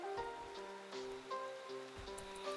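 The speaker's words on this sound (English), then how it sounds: "I'm not used to it raining so much." Rain falling in the video game Rimworld, a soft, steady patter of game weather running under sustained musical tones throughout, fairly faint.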